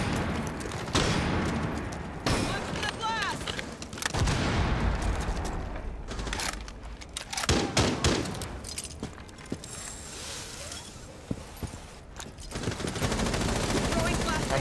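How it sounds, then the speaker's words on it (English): In a Rainbow Six Siege match a flashbang is tossed among bursts of gunfire and sharp bangs. The busy clatter of weapons runs throughout, with loud peaks and brief lulls. "Tossing a flashbang"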